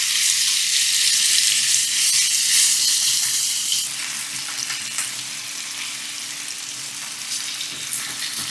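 Chicken pieces frying in olive oil in a pan over medium heat, a steady loud hiss and crackle of sizzling that settles slightly lower partway through, with no voices.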